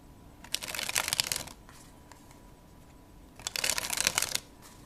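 A deck of playing cards is dribbled from hand to hand, two soft fluttering riffle bursts of about a second each, close and fairly quiet with a pause between.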